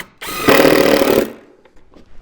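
A power drill drives 1¼ inch grabber screws through blocks into the underside of a kitchen island cabinet, one loud burst of about a second, then quiet clicks and handling.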